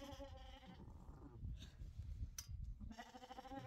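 Ewes and lambs on an English sheep farm bleat in two drawn-out calls, one at the start and one at the end, with rustling and shuffling animal movement in between.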